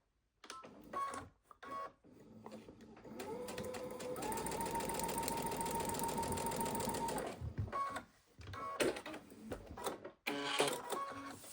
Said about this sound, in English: we're just going to start a couple stitches before where the thread ran out